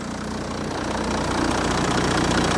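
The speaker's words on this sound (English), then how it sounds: "Goodness me, that V6 engine." A Mercedes E-Class V6 engine idles close by with the bonnet up, a steady low throbbing hum with a faint knocking rhythm, growing slightly louder toward the end.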